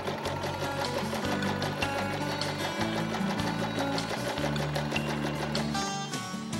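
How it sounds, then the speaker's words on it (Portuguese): A sewing machine stitches through a paper card, chattering loudly in close-up runs broken by brief pauses where the card is turned before stitching resumes. "viro e continuo costurando."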